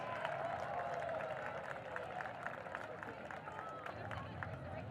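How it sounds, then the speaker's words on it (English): A school crowd applauds the 2025 homecoming Junior Prince and Princess at a high school football game, steady, fairly distant clapping with cheering and crowd murmur throughout. "A big round of applause for your 2025 Junior Prince and Princess."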